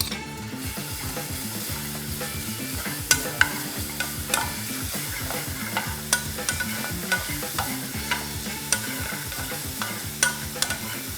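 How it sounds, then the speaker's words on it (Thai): Pounded aromatics stir-fried in olive oil in a pan for a crab pesto fettuccine, with a steady sizzle and repeated scraping strokes of a spatula, loud and close with no talking. "ใส่น้ำมันมะกอกลงไป นำเครื่องที่โขกใส่ลงไปผัดให้พอหอม"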